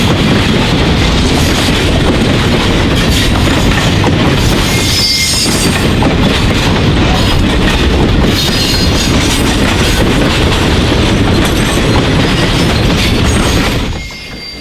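A Norfolk Southern freight train hauling road railers rumbles past up close, loud and steady, with clickety-clack of wheels on rail joints and occasional wheel squeal, the roar easing off at the very end.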